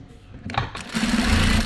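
A JUKI DDL-900 industrial sewing machine starts up as its pedal is pressed, a few clicks and a short pause giving way to a steady, close mechanical whirr that runs to the end.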